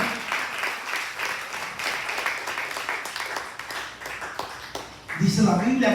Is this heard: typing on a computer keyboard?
no